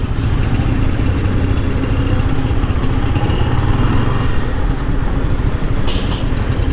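A Yamaha MT15 BS6 motorcycle engine runs steadily while being ridden, a loud, continuous mid-pitched drone with rough texture and no pauses, close to the listener.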